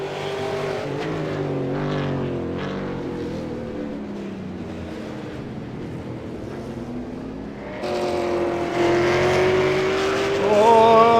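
V8 Supercar on a hot lap around an Australian or New Zealand circuit in a 2013 sim race, its engine droning steadily with rising and falling pitch, then louder and higher revving near the end, with some tyre scrub.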